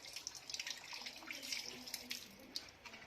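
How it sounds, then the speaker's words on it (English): Tap water running while hands are wetted, a soft steady splashing stream with light drips and irregular spatters, fairly quiet and with no voices. "wet hands with water"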